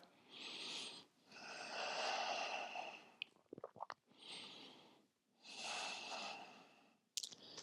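Slow, deep breaths drawn during a yoga bridge or wheel pose: long airy inhales and exhales in a steady rhythm, close and soft, broken by a brief rustle of movement midway.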